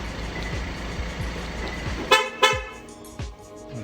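A car's factory remote-start alarm (Magic Car M8) locks the doors with two quick, close horn chirps a moment apart, after a low idling hum, with no one talking.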